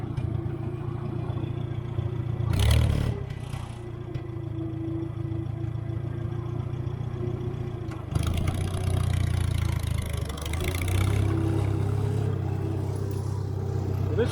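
An IH McCormick Farmall 350 tractor engine runs steadily in third gear with a low chugging drone, briefly surging louder a couple of times, heard up close without speech.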